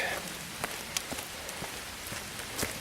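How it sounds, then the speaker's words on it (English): Steady rain falling on a hiking trail, a dense soft hiss with scattered sharper drip taps, fairly quiet and close, with no talking. "More rain's coming through."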